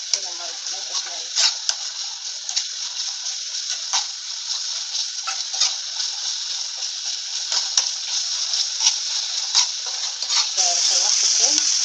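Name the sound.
garlic being sautéed in a pan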